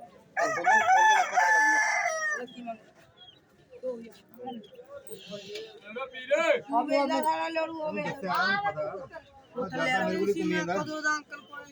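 Chickens cluck and a rooster crows repeatedly amid busy livestock market chatter, with several voices talking over the birds.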